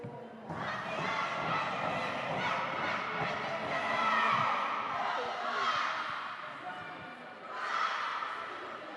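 Roller derby team cheering together at the end of a finals game, a loud sustained crowd of shouting voices across the whole stretch, dipping briefly before a final burst.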